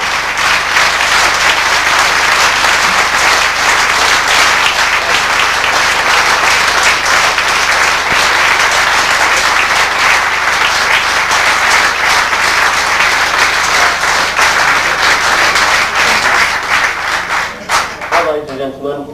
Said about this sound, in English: We give a rapturous applause to a cracking bowler